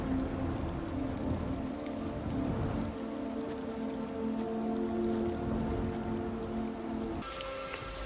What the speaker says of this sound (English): it's raining outside all around your character